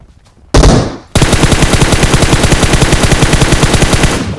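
Sustained automatic gunfire from a battle royale video game, very loud and close, with a short burst followed by a long rapid rhythmic stream of shots and no talk over it.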